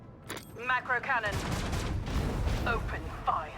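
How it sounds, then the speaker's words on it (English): Macro cannon fire in the video game Warhammer 40k: Rogue Trader, heavy booming blasts and rumbling impacts layered over game voices, loud and dense, with voices speaking over the action. "Macro cannon."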